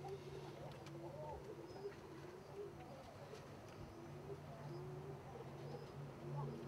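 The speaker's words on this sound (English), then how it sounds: "Figurine is a very popular little bird, easy to keep, easy to raise. It's supposed to be the smallest pigeon." Small figurita pigeons, the tiniest pigeon breed, coo softly in a loft, with low steady murmuring coos running throughout over faint background bird chatter and ambient noise.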